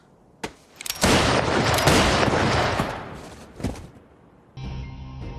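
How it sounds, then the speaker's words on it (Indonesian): Gunshots in a tense Peaky Blinders Season 2 execution scene: a sharp single shot, then a loud dense volley of fire that slowly fades, another crack, and music rising at the end. "Dia menembak 2 rekannya sendiri dan menyelamatkan Thomas."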